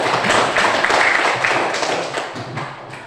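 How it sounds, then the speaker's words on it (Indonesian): Students in a classroom clap their hands together in a short burst of applause, a dense patter of claps fading out after about three seconds. "Oke, tepuk tangan dulu."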